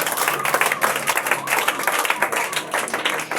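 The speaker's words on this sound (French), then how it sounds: "Acclame pour le roi." Clapping and applause acclaiming the king, a steady burst of hands clapping throughout with a faint murmur of voices underneath.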